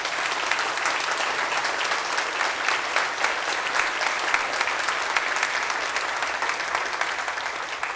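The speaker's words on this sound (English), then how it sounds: "So let's give Mayor Brown a round of applause." A full audience gives a steady round of applause for a mayor at a University of North Dakota event, the dense clapping holding evenly from start to finish without a voice over it.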